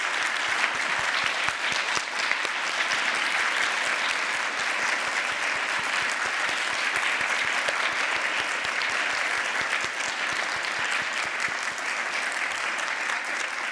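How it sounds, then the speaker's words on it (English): Sustained applause from an audience honoring panelists and participants at a health leadership forum, with many hands clapping in a full, continuous roar that stays steady for over ten seconds without fading. "let's give all of our panelists and participants today another round of applause"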